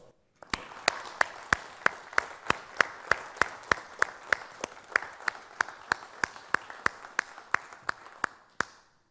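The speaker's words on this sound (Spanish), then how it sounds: "Quisiera darles un aplauso a todos." Evenly spaced, crisp hand claps ring out in a steady, metronome-like beat, about three per second for several seconds, close by and alone, at a product launch event for a Swinclor machine.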